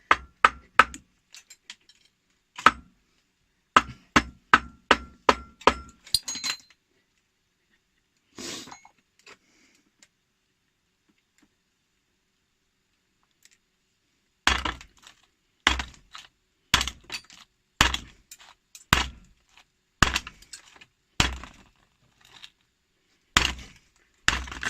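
A hammer strikes a Blackview BV7000 Pro rugged phone again and again, sharp clacking impacts in quick irregular runs separated by quiet pauses, some strikes coming in rapid clusters and others spaced out.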